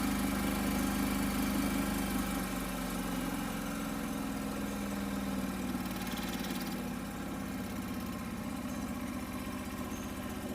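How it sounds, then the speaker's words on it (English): A John Deere 425 lawn tractor engine runs close and loud with a steady, unbroken drone across the whole stretch, the throttle raised, with no voices. "Go ahead and give it a little throttle. Throttle's up good."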